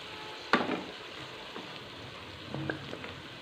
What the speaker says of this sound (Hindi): अब इसके अंदर हम कटे हुए टमाटर डाल देंगे